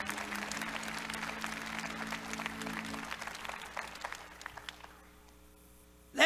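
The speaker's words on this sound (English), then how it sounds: "If you're going to clap for Jesus, give him a good clap offering." A church congregation gives a clap offering, a sustained burst of applause from many hands that fades out toward the end and leaves near silence.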